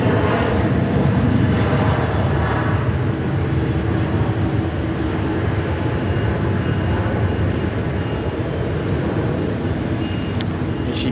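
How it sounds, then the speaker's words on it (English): Singapore Airlines Airbus A330 landing at Sydney Airport, a loud, steady jet roar with broadband rumble holding throughout, close and continuous with no talk. "Here she comes, the beautiful A330 there of Singapore Airlines"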